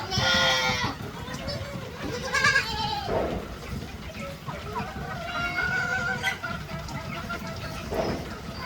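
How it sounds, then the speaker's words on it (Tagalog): Several goats bleat repeatedly indoors, fairly close, with chickens clucking and a person talking in the background amid heavy steady rain. "yung mga kambing natin nandito sa loob"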